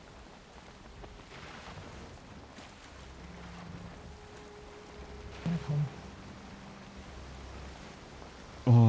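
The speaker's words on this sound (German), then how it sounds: "Oh, was ein Wind, endlich." Wind rushes steadily around a boat sailing on open water in the video game Valheim, a soft, low, continuous whoosh with faint water wash beneath and a brief spoken phrase.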